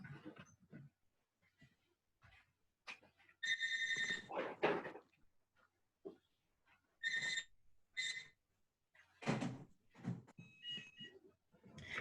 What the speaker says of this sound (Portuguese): Que barulho é esse aí, gente? Telefone.